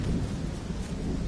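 Steady rain pours down with a deep rolling rumble of thunder underneath, loud and continuous throughout, with no voices, in a video game.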